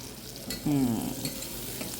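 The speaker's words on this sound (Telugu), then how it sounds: "కుక్కర్లో ఆయిల్ వేసుకున్నాను తర్వాత పచ్చిమిరపకాయలు వేసుకున్నాను తర్వాత ఉల్లిపాయలు వేసుకుని చక్కగా వేపుతున్నాను" Onions and green chillies frying in oil inside a pressure cooker, a low sizzle with a brief metallic scrape partway through, close and unaccompanied by voices.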